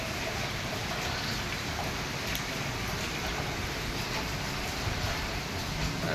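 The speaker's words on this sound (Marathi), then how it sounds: "या पाऊस परत रात्रीचा चालू झालाय." Heavy rain falls at night in a steady, unbroken downpour, a dense continuous wash of sound with no voices.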